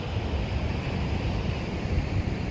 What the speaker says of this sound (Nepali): समुद्रको भेलहरू हुरुरुरुरु आएकै छ